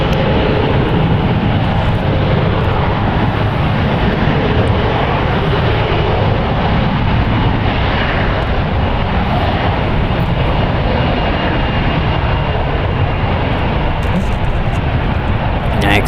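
A SkyWest Airlines Embraer E175 jet departing San Francisco gives a loud, continuous broadband engine roar that holds steady for the whole stretch, filling the air without any clear voices.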